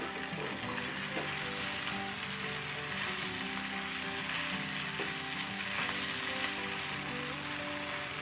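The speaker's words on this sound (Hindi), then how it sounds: "फिर इस मसाले में आपको मैक्रोनी अच्छे से सोटे करना है।" Macaroni being sautéed in a masala mixture in a pan over a very low flame, a steady close sizzle and fry with scraping stirring strokes throughout, no talking.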